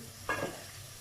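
Onions sautéing in a pan make a brief burst of sizzling with a soft stir, then a quieter steady frying hiss, close and without speech.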